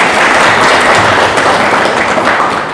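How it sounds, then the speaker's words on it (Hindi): A congregation at a church service claps hands together, a loud, close, fairly even burst of clapping that fades a little at the end. "ताली बजा रहे तो बजाओ ना"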